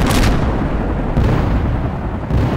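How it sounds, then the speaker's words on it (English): Artillery strike in the World in Conflict real-time strategy game: a dense, continuous roar of booming explosions and rumbling detonations, loud and unbroken throughout. "Artillery strike on the way."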